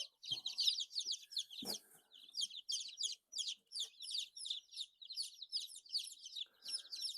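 Rhode Island Red chicks in a brooder, a dense stream of high, rapid peeping from many birds close by, with a couple of soft low bumps and no speech.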